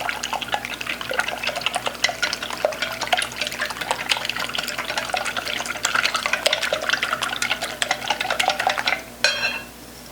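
Breakfast pot pie ingredients stirred in a mixing bowl, a continuous wet scraping and clinking of utensil against bowl, fairly close and busy, stopping near the end.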